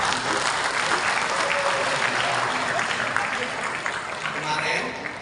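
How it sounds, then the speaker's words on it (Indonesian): A large audience at a disability organisation event claps steadily and densely for several seconds, full and loud, easing slightly toward the end. "Tepuk tangan semua."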